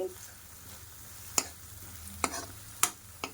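Raw prawns frying for a prawn and egg curry, a low quiet sizzle under a few sharp spoon scrapes and clinks against the pan at irregular intervals.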